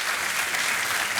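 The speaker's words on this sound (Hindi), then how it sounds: "तालियां बजती रहें।" A TV quiz-show studio audience applauds in a steady, dense, bright wash of clapping, loud and continuous with no pauses or voices.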